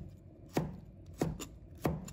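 A knife slicing a red chili into strips on a cutting board, three crisp, close chops at an even, unhurried pace over a quiet background.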